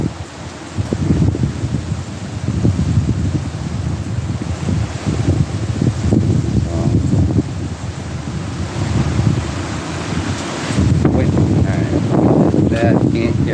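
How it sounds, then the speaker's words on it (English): Strong storm wind buffets the microphone outdoors in a loud, continuous roar with gusting surges and low rumble, while someone talks intermittently underneath. "It is a little windy out there."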